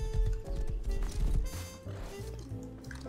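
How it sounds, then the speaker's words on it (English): A horse in a video game, with hoof clops and shuffling movement sounds mixed with game effects and tones, moderately loud over a few seconds. "Let's use this horse to join him."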